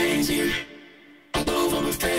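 A vocal is run through layered VocalSynth 2 modules, Polyvox, Vocoder, CompuVox and BioVox combined, giving a thick, buzzy synthetic voice in two sustained bursts separated by a near-silent break.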